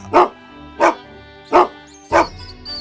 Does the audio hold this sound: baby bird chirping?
no